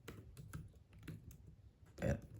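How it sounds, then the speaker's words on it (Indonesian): Keys clatter on a Huawei MatePad 11 2021 tablet keyboard, a quiet, close run of soft irregular taps with one louder clack near the end. "Mengetik dengan Huawei MatePad"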